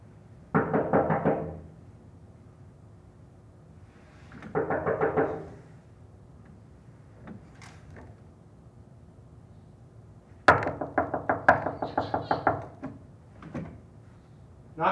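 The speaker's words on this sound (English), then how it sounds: "Knock on wood." Knocking on a wooden surface comes in separate bursts of rapid raps, a short cluster near the start, another a few seconds later, then a longer run of crisp knocks toward the end, with quiet gaps and a few isolated taps between.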